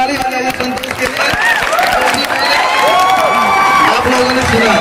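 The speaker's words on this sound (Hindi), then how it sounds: "चलिए ताली बजाइए संतोष के लिए" Audience applause and clapping for a performer named Santosh after a tongue-twister recitation, a steady dense patter of hands with cheering voices and crowd chatter mixed in throughout.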